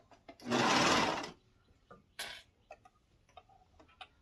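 A sewing machine stitches fabric for a tee dress in a short, loud burst of about a second, followed by a second brief run and scattered small mechanical ticks and clicks.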